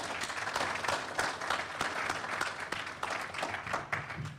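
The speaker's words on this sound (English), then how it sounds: "So please give yourselves a round of applause." Audience at a charity golf tournament gathering claps steadily and evenly for several seconds, a dense, sustained applause without speech over it.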